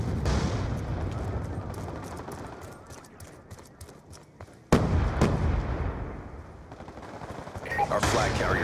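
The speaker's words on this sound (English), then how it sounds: "Friendly Hellstorm missile inbound." Hellstorm missile strike explosions in a Call of Duty-style multiplayer capture-the-flag match, a dense run of booming blasts and gunfire that fades and then erupts again in a sudden loud burst near the end.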